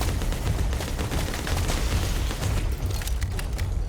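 Continuous dense gunfire and booming blasts from the video game Bounty Star, loud and sustained throughout with no talking.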